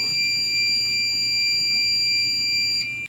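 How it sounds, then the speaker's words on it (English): A steady, piercing electronic feedback alarm tone from a bi-directional amplifier (BDA) in an emergency responder radio system sounds continuously at high pitch, loud and unbroken, then cuts off abruptly at the end. "This alarm can take up to 5 minutes to activate"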